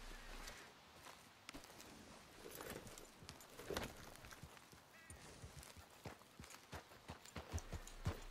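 Horse hooves clip-clop in Red Dead Redemption 2, a steady walking rhythm of distinct thuds that runs through the whole stretch at moderate volume, with no talk over it.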